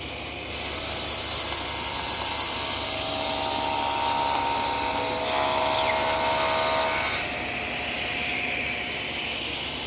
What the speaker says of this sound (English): it just makes cross-cutting pieces like this much easier